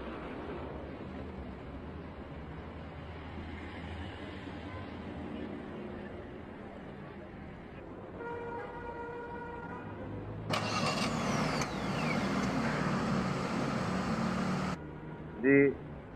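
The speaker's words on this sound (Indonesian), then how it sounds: "Jadi sekarang mesin udah nyala ya" A remotely started car engine idles with a low steady rumble, then a broad whooshing of the air conditioning fan kicks in partway through, with a brief tone near the end.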